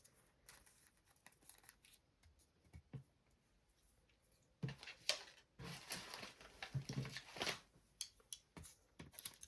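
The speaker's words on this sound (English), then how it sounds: "Trim it with your scissors." Scissors trimming a paper envelope for a junk journal: quiet, scattered snips and rustles that grow louder and busier in the second half, close up with no talking.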